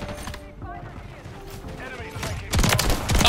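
Haymaker shotgun fitted with a JAK Maglift kit fires in Modern Warfare 3, giving a busy run of gunfire and mechanical clatter that ends in a loud, sustained burst, with someone talking over it.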